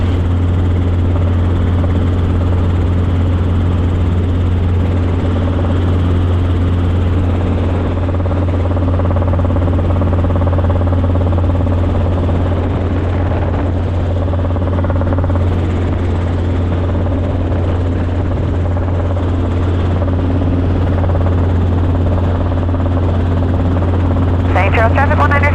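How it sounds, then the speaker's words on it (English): A helicopter turns onto final approach to land on the grass beside runway 18 at an airfield. Its rotor and engine drone loud and steady throughout, with faint radio voices beneath. "Traffic Helicopter 939 Stuart Dallas, going to be turning right base to final parallel to 18 in the grass"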